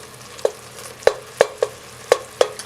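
Flour being stirred into melted butter to make a roux, with soft sizzling under six or so sharp clicks of a utensil against the pan at irregular intervals.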